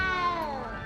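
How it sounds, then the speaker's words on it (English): A small cat meows in the Hogwarts Legacy video game, a single drawn-out, slightly falling meow heard close and clear over a low background hum. "You don't need to be frightened, little cat."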